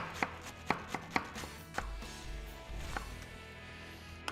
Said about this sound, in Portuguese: Vou pegar e cortar também o repolho, segura firme e com a faca a gente vai fazendo um corte bem fininho.